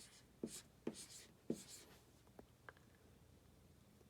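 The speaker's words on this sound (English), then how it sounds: "I'm going to write a number on my board" Marker or pen writing a number on a classroom board, a few quick close scratchy strokes in a quiet room, spaced taps followed by softer faint strokes.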